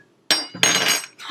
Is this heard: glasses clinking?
yes